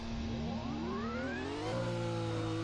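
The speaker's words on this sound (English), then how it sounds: "engine sounds for this car took a huge step up" Formula racing car engine in the Formula Apex video game revving and shifting through gears, pitch climbing in sweeping rises, steady and loud with no talk.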